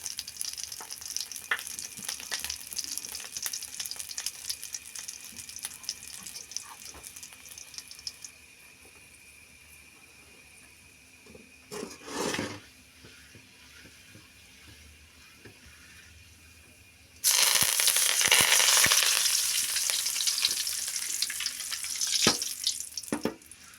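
A tempering of mustard seeds, cumin, urad dal and curry leaves crackling in hot oil, a quiet sizzle that drops low midway, then a sudden loud burst of spattering frying near the end.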